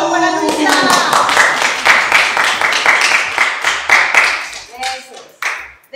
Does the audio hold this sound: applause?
yes